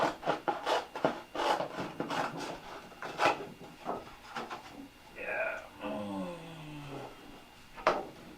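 A thin sheet of 1/64-inch plywood is cut by hand with short rasping strokes in an irregular rhythm, close and fairly faint, with brief creaky squeaks partway through.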